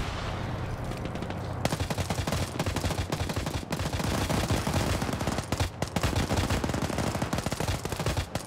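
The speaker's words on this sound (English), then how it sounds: "A lot of blind fire here as Op4 are just starting to trickle their forces in." Dense, loud video game gunfire in a large PvP battle, with sustained machine-gun bursts and scattered shots overlapping into a continuous fusillade that begins abruptly after a quieter opening.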